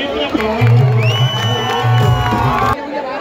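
A large crowd at a Dahi Handi Govinda event with the Jai Jawan Govinda pathak cheers and whoops loudly, with shouts rising and falling in a sustained close roar.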